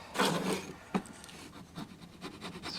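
A tool scraping wood off a woodturned inside-out Christmas tree ornament, a close rough rasping scrape with a sharp knock, followed by lighter intermittent scratching strokes.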